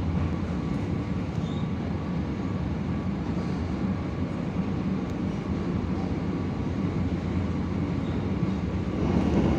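The Jaka Tingkir passenger train runs after leaving Haurgeulis station in Indramayu. It gives a continuous low rumble and rolling roar from inside the carriage, steady throughout with no talking.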